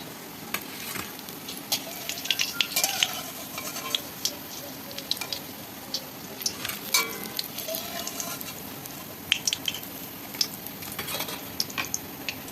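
Prawn and coconut pakoras fry in oil with a continuous soft sizzle, broken by scattered clinks and scrapes of a utensil against the pan.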